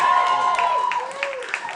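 A live audience claps and cheers for Ted Tremper, with sustained dense clapping and a few rising whistle-like cheers near the front, loud throughout.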